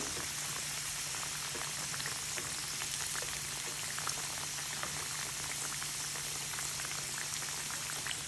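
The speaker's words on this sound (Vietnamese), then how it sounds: "Mình vặn lửa trung bình để mình chiên bánh." Vietnamese bánh xếp dumplings deep-frying submerged in oil over medium heat, a steady dense sizzle and crackle of bubbling fat, continuous and close, with no voices.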